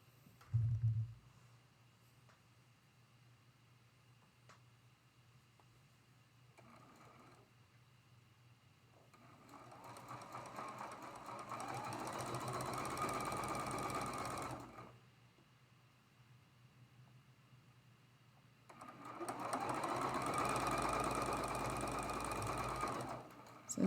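A home sewing machine stitches pieced quilt block units for a traditional Grandmother's Cross block, running in two steady bursts of rapid, even mechanical whirring with a quiet pause between them.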